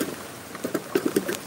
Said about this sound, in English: I'm caught in the fucking rain